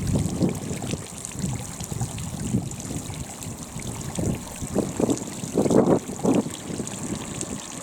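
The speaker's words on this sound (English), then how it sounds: "Small but beautiful waterfall here." Small waterfall spilling down a stream gully in the Fforest Fawr hills, a steady rushing trickle with splashy surges, close by, mixed with gusts of wind buffeting the microphone.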